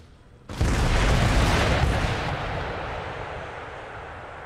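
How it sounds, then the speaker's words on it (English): Rocket battery firing in Empire: Total War, a single sharp broadband blast that swells into a loud, sustained roaring rush before slowly tailing off, with no voices. "Rockets away."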